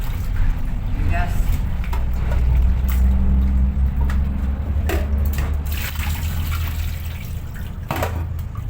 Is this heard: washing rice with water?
yes